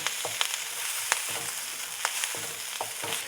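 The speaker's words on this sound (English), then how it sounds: "pop that into the wok. Give that a good stir through." Rice, vegetables, onion and tomato stir-fry in a wok for Thai fried rice, with a steady hiss and sharp, irregular clacks and scrapes from the utensil.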